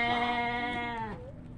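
A single sheep bleats once in a museum stable, a loud wavering cry up close that trails off into quiet.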